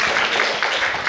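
Audience applause at an art academy exhibition opening held in a theatre, a steady dense patter of many hands clapping throughout, moderately close and even in level.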